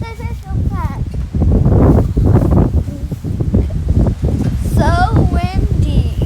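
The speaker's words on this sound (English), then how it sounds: "So windy." Strong outdoor wind buffets the microphone in gusty, rumbling bursts while someone makes puff pastry outside, with a person talking over the roar throughout.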